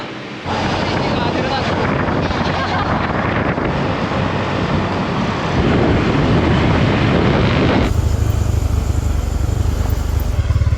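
Continuous engine drone with heavy wind buffeting from a moving motorcycle in Takengon, Indonesia, loud and close, with a brief shift in tone near the end.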